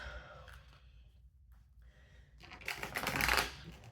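Tarot cards are shuffled close up, a soft riffling flutter that builds into a louder crisp burst near the end, with quiet room tone and no speech.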